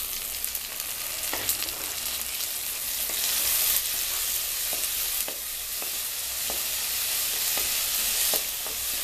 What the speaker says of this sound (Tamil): இது ஒரு ரெண்டு மூணு நிமிஷம் வதங்கட்டும்